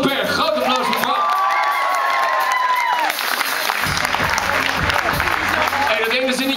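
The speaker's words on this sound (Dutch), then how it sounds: "Groot applaus voor Bram." Concert audience at a live show in Metropool Hengelo applauding and cheering for the drummer, a loud, dense crowd roar with whoops and a sustained whistle or tone early on, continuing steadily throughout.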